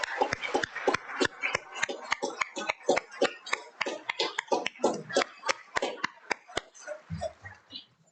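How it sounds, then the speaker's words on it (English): Scattered applause for students at a cancer charity event, made up of sparse, distinct handclaps from a small group, fairly close, thinning out toward the end. "So can I get one more round of applause for our amazing students?"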